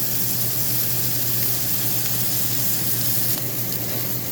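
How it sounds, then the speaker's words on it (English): Meat searing in a hot, smoking pan gives a steady, loud, dense sizzle that holds evenly throughout, with no talking. "Gonna let that sear for a few minutes on each side."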